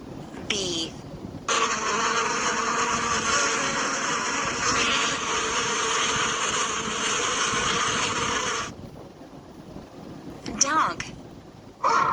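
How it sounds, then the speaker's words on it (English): Bee buzzing in a steady, continuous drone that holds for several seconds at an even level, fairly loud and close, then stops abruptly, with brief short sounds around it. "Bee."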